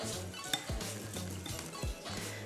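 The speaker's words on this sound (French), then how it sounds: "On récupère notre blanc d'œuf et on le verse sur le sucre glace. On ajoute quelques gouttes de citron et on vient mélanger." Utensil clinking and scraping against a bowl as egg white is mixed into icing sugar with a few drops of lemon, with repeated close, light taps and clinks in a steady rhythm.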